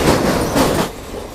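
A crowded Medinipur–Howrah local train rumbles along the track near Kharagpur, a loud, close, continuous roar of wheels and carriages over a brief stretch.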